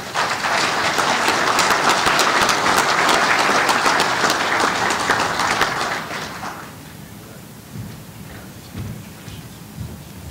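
A convention audience gives a loud, steady round of applause for award winners, the clapping sustained for about six seconds before fading abruptly into quieter room noise and a few scattered sounds.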